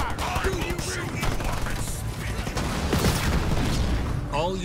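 Rapid gunfire from Marine squads in Halo Wars 2, a dense busy stream of shots and battle noise running throughout, with game voices speaking over the action.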